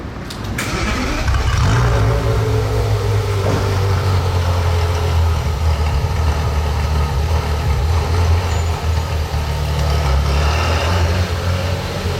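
A Porsche Carrera GT engine runs loud and close inside a tunnel, with a deep steady rumble that swells briefly near the start and then holds at a roaring idle throughout.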